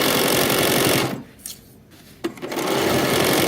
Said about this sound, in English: And now we're just going to sew down to the hem.